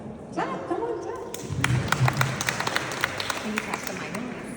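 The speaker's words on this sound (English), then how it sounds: "Clap, come on, clap." Scattered claps from an audience build into brief applause after a prompt, sharp hand claps over a speaking voice and murmuring crowd in a room.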